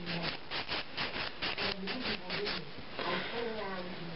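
Acrylic nails being filed by hand, a quick run of rhythmic rasping strokes close up, with a voice talking over the later part.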